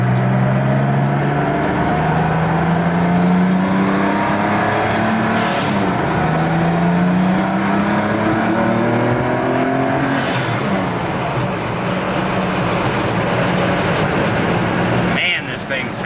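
A tuned, air-cooled big-turbo Porsche 930 engine runs on a dyno, loud and close, with a steady roar whose pitch rises and falls in repeated surges as it builds boost. It sounds continuous, with a brief sharp change near the end.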